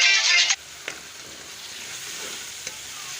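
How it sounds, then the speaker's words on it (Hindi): Potatoes and peas fry in spices for an aloo matar curry, with a close stirring scrape and bright sizzle in the first half second, then a quieter steady crackle and a couple of faint clinks. "आलू मटर की बहुत अच्छी भुनाई हुई है"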